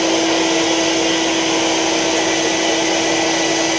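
An Electrolux vacuum cleaner runs at full power during an airflow test, giving a loud, constant whooshing roar with a steady tonal hum and no pauses or speech.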